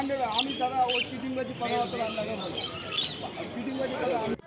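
Blue-and-yellow-sided conures at a bird market give sharp squawks and chatter beneath a person's continuous, close talking.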